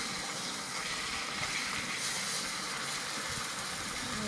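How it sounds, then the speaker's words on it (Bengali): Fish frying in oil in a pan while onion and garlic wait nearby, a steady close hiss and sizzle running unbroken with no talk. "এই মাছটা একটু ভাজা হচ্ছে"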